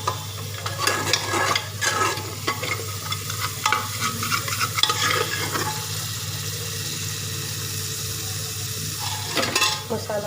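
Masala spices sizzle in a pan on a home kitchen stove while a spoon scrapes and stirs in irregular strokes, a steady frying hiss underneath with a low hum.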